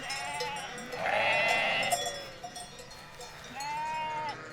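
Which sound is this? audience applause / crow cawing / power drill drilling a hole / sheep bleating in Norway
sheep bleating in Norway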